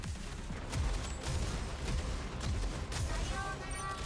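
Repeated explosive gunfire from a grenade launcher in a shooter video game, a dense, continuous barrage of booming shots and blasts with low rumbling impacts filling the whole stretch at steady loudness.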